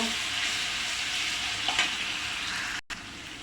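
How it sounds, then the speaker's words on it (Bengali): Ginger and garlic paste sizzles in a pan for a gourd-peel stir-fry, giving a dense, even, close hiss that runs unbroken until a sudden brief cut near the end. "তো আমি এখন দিয়ে দিচ্ছি আদা বাটা আর রসুন বাটা দিয়ে একটু নেড়ে ছেড়ে দিব।"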